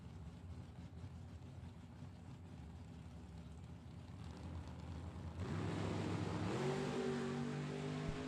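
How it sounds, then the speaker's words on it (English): Chevrolet Malibu drag race car at a World Super Pro Challenge drag strip, a distant engine drone that swells into a louder rising roar as it accelerates, with climbing harmonic whine toward the end. "Connor Jensen's Chevrolet Malibu in the left-hand lane"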